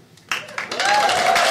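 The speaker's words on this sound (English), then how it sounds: "Please, please, don't clap." An audience at a stand-up comedy show breaks into clapping that starts abruptly and swells, while a voice begins talking over it.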